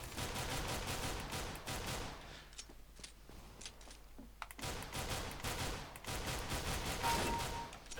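Rapid gunfire from Counter-Strike: Global Offensive played on a Steam Controller, with loud bursts of automatic shots in the opening seconds, a brief lull of scattered single shots, then renewed dense firing to the end.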